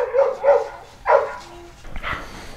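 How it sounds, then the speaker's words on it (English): A dog barks close by in a domestic workshop setting: two quick barks, a pause, a third sharper bark, then a softer whimpering yip at the end, all without any voices. "My stupid dog's barking."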